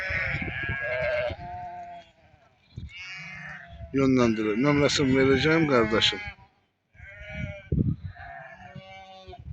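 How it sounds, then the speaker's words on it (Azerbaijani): Lambs bleat at a sheep market in Barda amid a men's crowd, the calls rising in a burst at mid-clip under nearly continuous close talking, with a few quieter bleats later. "Maşallah olsun, qəşəng quzular var."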